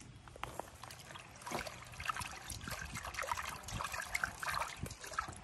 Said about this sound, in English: we're gonna go ahead and rinse it.